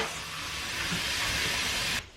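Steam hisses loudly and steadily from a coffee machine being cleaned, a close, unbroken hiss that cuts off abruptly just before the end.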